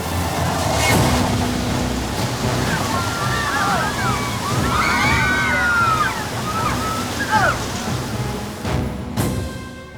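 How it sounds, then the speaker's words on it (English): A staged flash flood special effect on the Universal Studios Hollywood studio tour: loud rushing, sloshing water roars continuously throughout, with faint voices mixed in. "Universal's special effects wizards put you through a sudden flash flood."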